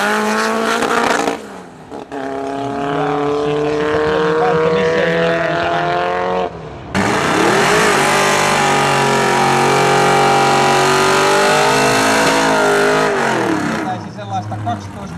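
Two street drag race cars, an orange Ford five-window coupe racer and a VW Beetle, roar loudly with sustained revving engines and a brief cut in between, while an announcer talks over them.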